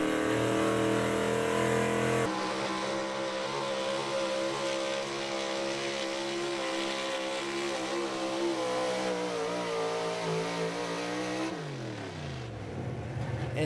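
Pulling truck engine roaring at full throttle during a truck and tractor pull run, a sustained loud high-revving drone that holds steady, then drops in pitch as the engine winds down near the end.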